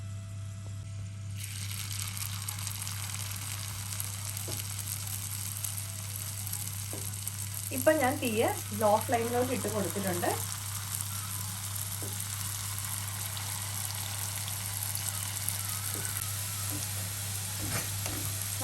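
Pieces of wheat flour shankarpali dough fry in hot oil over a low flame, giving a constant, close, bubbling sizzle. A brief rattling clatter breaks in partway through, and the sizzle keeps going underneath.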